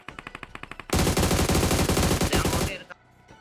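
Gunfire in the mobile battle royale game BGMI, with a quick run of evenly spaced single shots followed by a loud, sustained automatic burst that cuts off abruptly.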